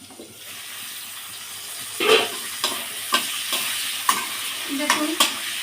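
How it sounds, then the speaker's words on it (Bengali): Potatoes frying in a pan for a Bengali bata fish curry, with a steady close sizzle broken by several sharp scrapes and clinks as a spatula stirs them, with no voices. "দেখুন আলুটা বেশ ভাজা ভাজা হয়ে আসছে"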